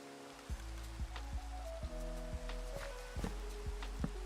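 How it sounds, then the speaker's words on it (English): Rain falls in the block-building game Minecraft as a soft, steady patter beneath a quiet musical drone, while evenly spaced in-game footsteps thud along in regular rhythm. "Also, oh, it's because it's raining."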